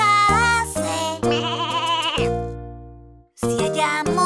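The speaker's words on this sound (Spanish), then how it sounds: "¡Es una oveja!" A cartoon-style sheep bleats loudly over a bright children's song in a toddlers' learning sing-along, the call standing out clearly for a couple of seconds amid the music.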